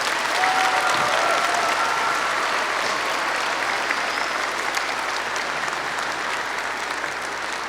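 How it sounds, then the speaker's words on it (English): An audience at a fifth-grade patriotic school program applauds steadily, a dense, sustained wash of clapping from a large crowd that holds even and loud throughout. "So let's give them a big round of applause."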